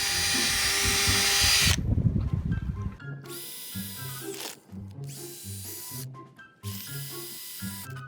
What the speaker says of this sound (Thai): เราก็จะมาเจาะรูข้าง ๆ นี้นะครับให้น้ำมัน ล้างออกได้นะครับ